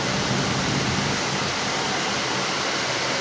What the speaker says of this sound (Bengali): ওয়াও, এত সুন্দর বৃষ্টি